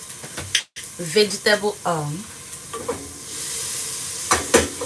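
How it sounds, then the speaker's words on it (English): Chicken sizzles and crackles in hot vegetable oil while a person talks over it, with soft clinks and stirring noises. "I'm gonna be frying the chicken"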